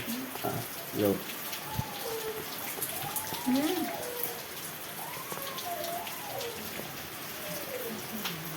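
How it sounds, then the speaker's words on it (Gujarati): Rain starting to fall outdoors, a steady hiss of drops throughout, with people talking over it. "જો વરસાદ ચાલુ થઈ ગયો છે"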